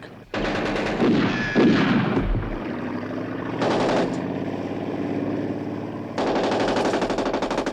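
Gunfire in a Joe 90 puppet adventure episode, heard as loud bursts of rapid shots over a dramatic orchestral score, with a second volley joining near the end.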